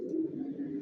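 Racing pigeons in a loft give a soft, low, steady coo that runs unbroken through a brief moment, close and fairly quiet, with no voices.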